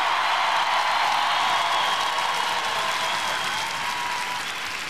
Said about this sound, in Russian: Товарищи, они ждут ваших аплодисментов.